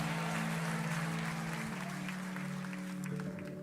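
Church congregation at a celebration service claps in a sustained wash of applause beneath a held musical drone, fairly distant and steady throughout.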